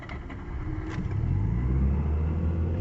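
A Mazda RX-7 FC3S turbo with a reattached intercooler cranks and then catches, settling into a rough, low, steady idle that grows slightly louder, heard close up and alone.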